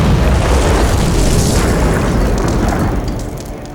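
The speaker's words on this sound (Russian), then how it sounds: "и тут происходит взрыв." Loud, sustained bomb explosion, a dense roaring boom that fills the whole clip before slowly tapering off at the end, with no speech.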